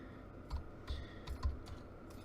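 Someone types on a new computer keyboard while coding: a few quiet, close, irregular key clicks and thumps over low background hum, with no talking.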